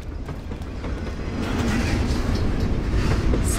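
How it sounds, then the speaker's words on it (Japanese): A train rolls past in a junkyard rail yard in the video game Life is Strange, a steady rumbling clatter that swells louder partway through and keeps going without any voices. "でそこから電車来る。"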